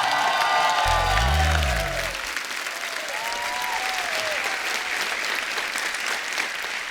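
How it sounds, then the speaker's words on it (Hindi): Sustained applause from a large studio audience at The Kapil Sharma Show fills the room, dense clapping continuing throughout, with a voice briefly heard over it near the start. "जोरदार तालियों से स्वागत होना चाहिए।"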